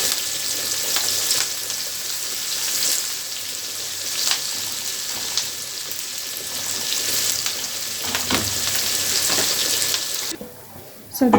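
Onion fries in a pan for Egyptian koshari, giving a continuous, moderately loud sizzle with occasional stirring clicks, then dropping away abruptly near the end.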